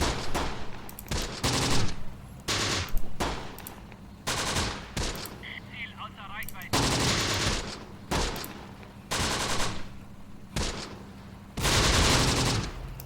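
Repeated bursts of rifle and machine-gun fire from a World War II battle in the Close Combat: The Bloody First strategy game, in a rhythmic series of loud volleys with brief gaps between them.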